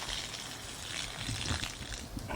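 Rinse water poured off oxtail in a kitchen, a soft continuous trickle and splash that stays quiet and close for a couple of seconds.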